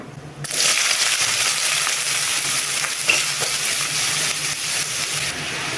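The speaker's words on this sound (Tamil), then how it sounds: "நல்லெண்ணெய் விட்டுக்கிட்டேன் கொஞ்சமாக கடுகு போட்டாச்சு கடுகு பொரிஞ்சோடனே வெங்காயம் போட்டுக்கலாம்" Onions drop into hot sesame oil with spluttering mustard seeds while starting a dried anchovy thokku, a loud dense frying hiss that bursts in after a brief quiet moment and holds steady throughout.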